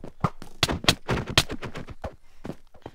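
Sniper gunfire rings out in a multiplayer video game, with a rapid cluster of sharp, close cracks and bursts over about three seconds and a single fainter shot near the end.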